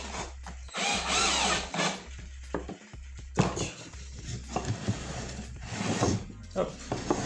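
A power drill drives screws into wood while building a hanging pendant light, short whirring bursts repeating in pairs, close by, with someone talking between and over them.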